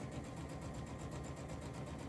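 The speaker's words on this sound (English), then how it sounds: "I'm gonna sew this edge" A sewing machine stitches along the edge of a quilt block, giving a soft, even, rapidly pulsing mechanical whir that stays faint and steady, with no talking.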